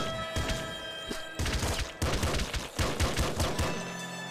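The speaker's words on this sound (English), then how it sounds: "We got a shotgun." Shotgun blasts from the video game Nuclear Throne fire in a rapid, uneven string of loud booming shots, close and punchy, with no voice over them.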